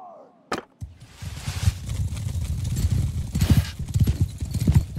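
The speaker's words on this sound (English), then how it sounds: "Horse!" Horses gallop in a medieval strategy video game, a dense rumbling clatter of many hooves building after a sharp hit at the start, loud and close with no talking.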